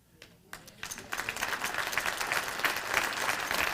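Audience applause at a college's State of the College address swells from a few scattered claps into steady, dense clapping that fills the room and keeps building to the end.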